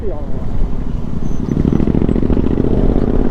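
Royal Enfield GT 650 twin with an aftermarket silencer, a loud, close exhaust rumble that thickens into a steady punchy throb after a short rev at the start.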